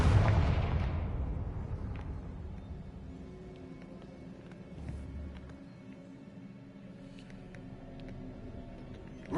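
A Confringo fire spell explodes in the Hogwarts Legacy video game: one loud, close blast at the start, then a rumbling tail that fades over several seconds, with faint crackles and small effects after it.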